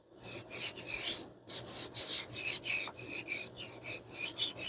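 A knife blade is drawn across the coarser diamond disc of a rolling knife sharpener in about a dozen brisk, rhythmic rasping strokes, close up, with one short pause early on and no speech.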